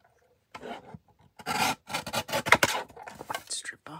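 Paper strip being trimmed in a papercraft project, a series of dry rasping, rubbing cuts in close bursts, some faint and some louder, without talk.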